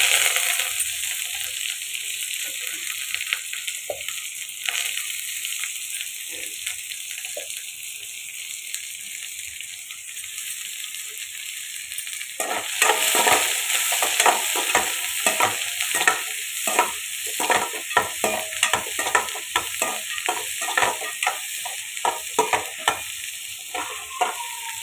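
Onion and curry leaves frying in a pan, a steady hissing sizzle throughout that grows louder and busier about halfway, with scraping stirring and clinks on top. No one speaks.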